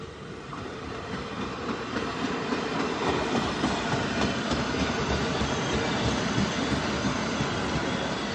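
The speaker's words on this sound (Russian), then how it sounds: "Так, метро едет." A New York subway train rumbles past steadily for the whole stretch, with loud continuous wheel and rail noise, clickety-clack and a faint high squeal, with no voices.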